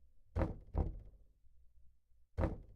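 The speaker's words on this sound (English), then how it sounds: "Whatever it is, it's knocking right outside the door." Knocking on a door in a horror video game, three heavy dull thuds, two close together then a pause before the third, loud and near in an otherwise quiet scene.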